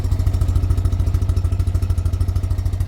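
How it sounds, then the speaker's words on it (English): A small Citroen 2CV or GSA engine just off choke, giving a steady, low, rhythmic thumping exhaust note with even pulses, close and unaccompanied by talk. "that is a good exhaust note"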